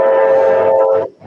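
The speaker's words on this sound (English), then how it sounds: "I'm sorry about the train horn" A passing train sounds its horn in one loud, sustained, steady blast that cuts off abruptly after about a second.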